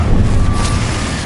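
A Confringo spell blast in Hogwarts Legacy, a loud, dense booming explosion that fills the whole moment with a rumbling roar, close and sustained without any speech.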